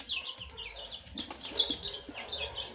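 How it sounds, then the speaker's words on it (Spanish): Small chicks peep in quick high chirps, overlapping and scattered, fairly close and moderately quiet, with faint rustling underneath. "Por cajita estoy sacando 6 pollitos, fíjense."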